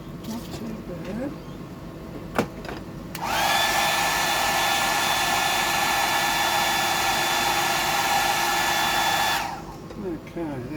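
A blower or dryer switches on and runs with a steady high-pitched whine for about six seconds before cutting off, close and loud, with faint background noise before and after.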